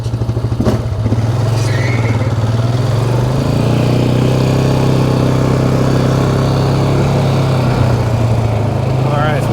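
A Polaris Sportsman XP 550 ATV with a gear-shifting problem runs loud and close, its steady engine drone shifting pitch as it moves through reverse, low and high, with clatter and someone speaking briefly.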